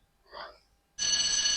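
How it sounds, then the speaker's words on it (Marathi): A mobile phone ringing indoors in a comedy scene, starting abruptly after a brief voice and then sounding loud and steady. "अरे मोबാईल इथंच विसरले वाटते. कोणाचा फोन आहे बघतेस"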